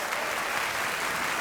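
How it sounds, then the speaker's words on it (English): A packed audience claps loudly and continuously at the ARIA Awards in the historic Hordern Pavilion in Sydney, a full wash of applause with no breaks. "Give yourselves a round of applause, please."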